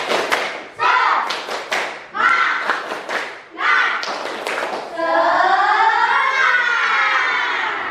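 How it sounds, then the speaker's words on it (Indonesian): Students in a classroom perform a group spirit clap, a run of rhythmic bursts of claps, then loud shouting and cheering together at the end. "Tepuk semangat."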